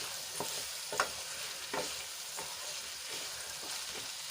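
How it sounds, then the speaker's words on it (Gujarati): Eggplant, cowpeas and tomatoes sauté quietly in a pan for a Gujarati vegetable dish, with a soft constant sizzle and a spoon scraping through the pieces in regular strokes about every half second. "હવે બધું સરસ રીતે મિક્સ કરી લઈશું અને ચારથી પાંચ મિનિટ માટે આપણે એને સંતળાવા દઈશું"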